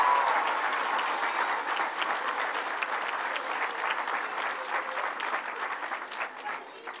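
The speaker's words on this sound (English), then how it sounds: "let's give all the teachers at the Rutherford School a big round of applause" A school crowd at a governor's event in Monticello gives the Rutherford School teachers a big round of applause, a full, sustained wash of clapping that slowly tapers over several seconds.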